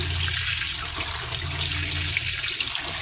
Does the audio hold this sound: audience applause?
no